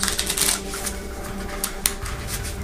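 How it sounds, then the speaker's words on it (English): Pandemic board game cards being shuffled by hand, a close, crisp run of rapid riffling and flicking bursts with a sharp snap near the end, no talking. "I'm not very good at shuffling, as you can probably tell."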